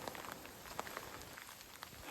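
Steady rain patters through a forest of cedars and ferns in Oregon as a dense, even hiss with scattered drop ticks, soft and continuous and with no voices.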